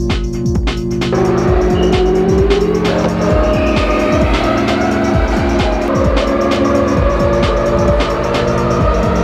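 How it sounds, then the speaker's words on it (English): Electric go-karts race around a track, several whining motors rising and falling in pitch as karts pass close by, with tire squeals mixed into a continuous loud roar and no talking. "We got the crew here racing these super fast electric cars."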